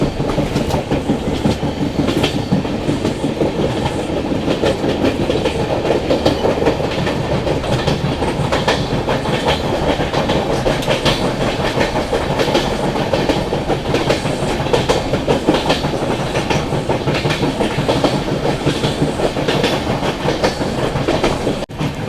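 An Agartala Tejas Rajdhani Express, hauled by a diesel locomotive with a banker locomotive attached, runs steadily along the tracks. Loud continuous rumble with rhythmic clickety-clack of wheels over rail joints throughout, and no talking.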